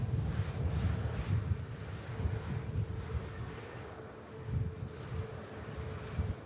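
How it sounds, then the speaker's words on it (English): A Malta Air airliner rolls onto the runway at Manchester Airport for departure, a faint low engine rumble with gusting wind noise on the microphone, steady with slight swells. "the Malta Air just entering now for departure to Curry"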